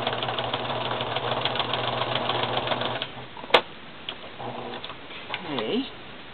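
A sewing machine stitches around a mermaid doll in a fast, steady whirring run for about three seconds, then stops. A sharp click follows, then a few softer mechanical sounds, all close.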